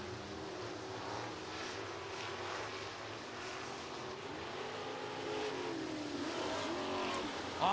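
Race cars hustling down the front straightaway at Southern Raceway in Milton, Florida, a distant engine roar that swells slightly louder toward the end, with no voices.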